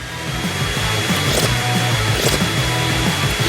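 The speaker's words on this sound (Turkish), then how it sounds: "Elektrikli süpürge." A vacuum cleaner runs continuously with a loud, steady whooshing roar and a slightly wavering motor tone, close by.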